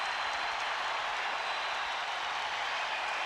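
Arena crowd at a 1993 NBA Eastern Conference Semifinals game, Chicago Bulls at Cleveland Cavaliers, roaring and applauding in a dense, continuous wash of noise with no pauses.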